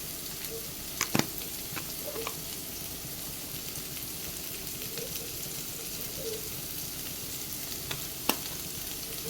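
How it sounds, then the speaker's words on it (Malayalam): An egg mixture with chili flakes fries in a pan, giving a steady close sizzle. A few sharp scrapes and clacks of stirring come through at intervals, with no talking. "ഇളക്കി മിക്സ് ചെയ്തെടുക്കാം."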